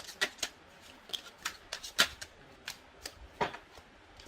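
Tarot cards being shuffled and drawn, heard as a quiet run of crisp riffles and flicks in irregular bursts, close and dry with no voice over them.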